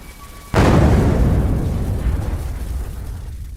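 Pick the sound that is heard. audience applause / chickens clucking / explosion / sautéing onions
explosion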